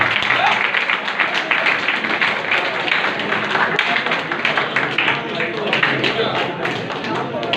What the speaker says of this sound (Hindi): अरे भाई थोड़ा ताली में